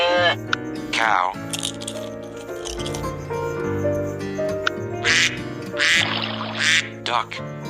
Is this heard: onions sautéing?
no